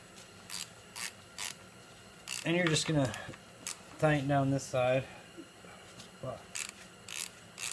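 Clicking ratchet tightens a wheel bolt on a 2002-2007 Honda CR250 dirt bike, a run of short regular clicks close by, broken by brief stretches of talk.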